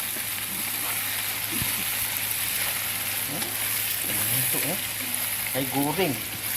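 Ground tomato blended with spice paste sizzles steadily in a pan for a beef curry, a constant hiss with a few brief spoken words over it.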